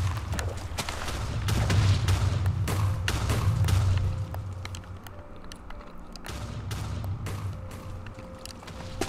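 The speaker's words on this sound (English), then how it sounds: "So I'll block all of the TNT explosions." TNT explosions in Minecraft go off in a rapid, overlapping chain of booming thuds and cracks. They are loud and heavy at first, then come as sparser, lighter bursts.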